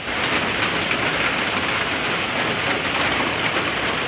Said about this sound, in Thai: แต่ว่าตอนนี้ฝนมาอีกเลยพี่น้องมาซ้ำแรง